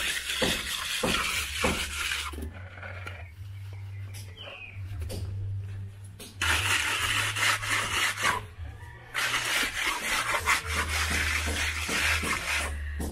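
Workers smooth fresh plaster on a wall of a budget bungalow under construction in the Philippines, making continuous close rasping and scraping strokes that pause briefly midway, over a low steady hum.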